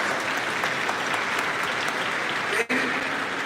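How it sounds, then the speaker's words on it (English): Audience applause fills a graduation ceremony hall, a steady broadband clapping from a large crowd that runs throughout and cuts off sharply near the end before resuming. "David, give me my applause"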